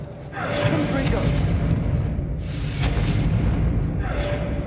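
A Confringo spell fires in the Hogwarts Legacy video game, with loud, sustained fiery booms and rumbling blasts in repeated surges.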